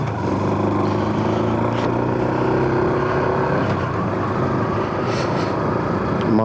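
Steady loud wind buffeting against a helmet while riding a Honda Super Cub with no windscreen, mixed with the small engine's droning hum, continuous and close throughout.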